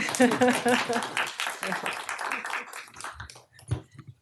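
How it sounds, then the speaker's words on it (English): Applause from attendees at a town council meeting sounds as scattered clapping that fades out, with a voice speaking over it near the start. "Oh, go, you can clap, it's all right."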